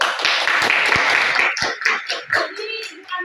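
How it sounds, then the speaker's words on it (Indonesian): Classroom applause for a student group after a discussion, a dense burst of many hands clapping close by that thins into scattered claps toward the end. "Ibu beri tepuk tangan untuk kelompok 1"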